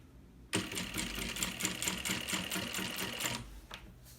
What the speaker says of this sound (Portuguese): Vamos lá, começar a costurar.